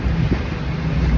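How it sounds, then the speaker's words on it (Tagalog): Steady sea wind on Manila Bay's Dolomite Beach blows across the microphone with a low, rumbling roar, continuous and unbroken throughout. "Dagat, hangin kayo. Preskong hangin"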